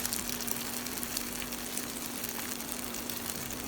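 Tofu pieces pan-fry in oil, turned until golden on every side; a steady, dense sizzle runs the whole time over a faint electrical hum, with no voices.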